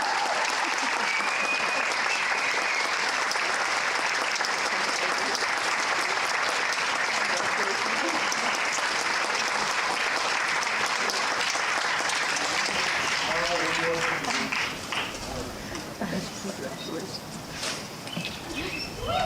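An audience claps for award recipient Lisa Geyer at a staff recognition awards ceremony, with dense, sustained applause that thins and fades toward the end.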